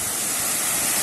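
A great waterfall at Arosim in Goa during the monsoon roars as a loud, steady, broadband rush of falling water, close by and continuous, with no voices.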